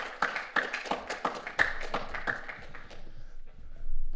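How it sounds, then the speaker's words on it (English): An audience at an IoT conference opening claps to welcome a speaker, sharp individual hand claps at first building into light, thin applause that fades out after about three seconds, fairly close and without talk. "we give Jan a warm welcome by applauding him"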